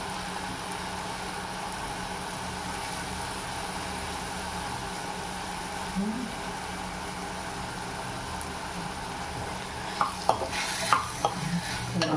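Mushroom and baby corn are stirred and cooked in a pan, making a faint, steady sizzle with a few light clinks and scrapes of the utensil near the end.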